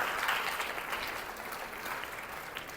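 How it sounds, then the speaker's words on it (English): Audience at an exhibitor briefing for Tech Week Singapore 2023 giving a continuous round of applause, an even spread of many hands clapping throughout. "Maybe a big round of applause to everyone."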